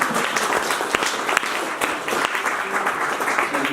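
Applause from an audience at an opening night talk at the Ed Paschke Art Center welcomes artist Andy Paczos, a steady, full round of clapping from a crowd in a room, with some individual claps standing out.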